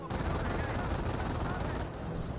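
Sustained gunfire from a Company of Heroes battle, Volksgrenadiers under fire, dense continuous rattling of machine guns and rifles filling the whole stretch with a broad, busy wash, steady and loud throughout.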